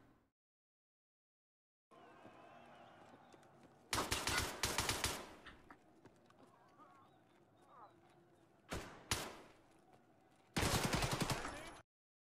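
Automatic gunfire with heavy recoil erupts in a video game, three loud bursts: a long stuttering volley, a short pair of shots, then another sustained burst, set against quiet ambient game noise.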